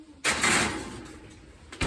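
An oven door swings shut with a cast Dutch oven of sourdough bread loaded inside, a single loud thud followed by a brief rattle, then a second knock near the end.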